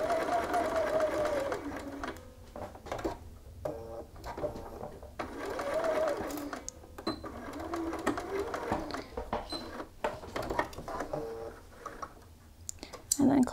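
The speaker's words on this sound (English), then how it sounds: "So we're just stitching across these points." A sewing machine stitches across the points of a shirt sleeve placket in several close, steady runs with short pauses between bursts, loud and near.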